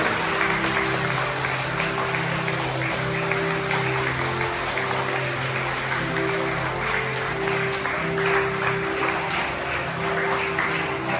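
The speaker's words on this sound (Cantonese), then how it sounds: "我哋俾啲掌聲同埋歡迎佢哋，多謝佢哋。" A church congregation applauds to welcome extraordinary communion ministers at their blessing rite, steady dense clapping that fills the room throughout.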